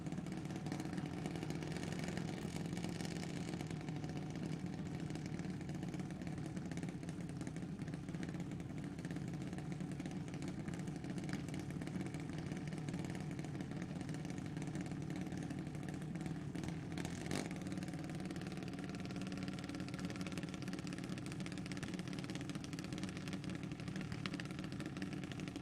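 Half-scale junior dragster engines idling at a drag race, a steady, continuous mid-pitched mechanical drone held close and loud throughout, with no change in pace.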